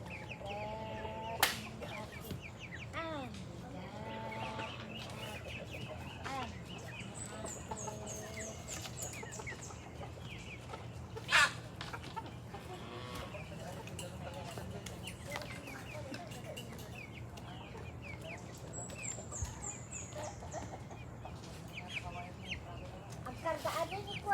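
Chickens cluck and chicks peep continuously at a moderate distance during feeding, with occasional sharp knocks and faint voices in the background.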